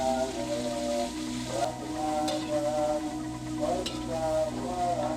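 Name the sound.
vegetables and seasoning stirred and fried in a pan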